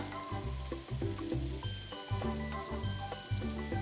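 Chicken pieces frying in a pan after onions are sautéed, a busy crackling sizzle punctuated by rhythmic scraping and clinks of a spoon stirring, close and fairly quiet with no talking.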